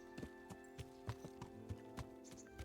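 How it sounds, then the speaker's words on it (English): Hooves clip-clop in a steady, evenly spaced walking rhythm in Kingdom Come: Deliverance, each footfall close and distinct over a faint tonal game backdrop. "You're such a good horse."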